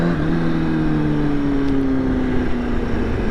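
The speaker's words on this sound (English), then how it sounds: "Even though it's a stock exhaust, the echo is real." A motorcycle with a stock exhaust rumbles steadily along a downtown Charlotte street, its engine drone holding low and loud with a slight fall in pitch as it cruises, echoing off nearby buildings.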